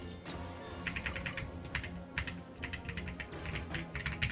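A mechanical keyboard is typed on in quick irregular runs of clacky keystrokes, close but quiet, with short pauses between bursts.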